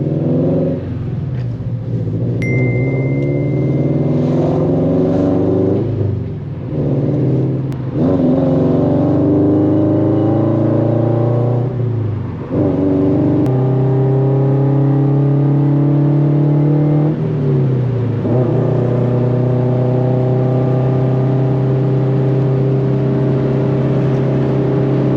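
Straight-piped Subaru BRZ / Toyota 86 (FR-S) engine revving loud and close through gear changes while driving at night, rising pitch sweeps broken by brief dips between shifts, droning steadily with no talking.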